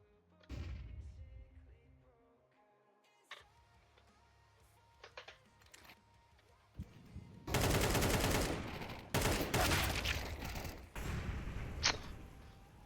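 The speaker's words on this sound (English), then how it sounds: "That was terrible shooting, Fern, I'll be honest." Counter-Strike gunfire on the Dust 2 map: scattered single shots and clicks at first, then dense bursts of rapid automatic fire over the last several seconds, with no talk.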